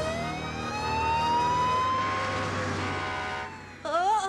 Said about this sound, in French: C'était qu'un camion de pompiers